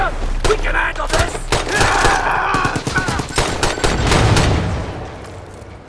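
Gunfire crackles almost nonstop in a Brothers in Arms 3 game battle, loud rapid bursts with a heavy grenade blast folded in, while soldiers shout over the din.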